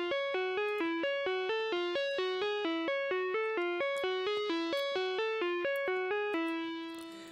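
A dry synth patch of a triangle wave frequency-modulated by a square wave, with no effects, plays a steady rhythmic run of short bright notes alone, ending on one held tone that fades.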